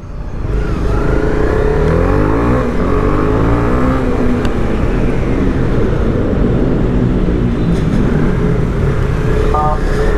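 A Honda CB300R motorcycle accelerates hard on an open road, its engine note loud and rising steadily for about ten seconds with strong wind rush, recorded from on the bike.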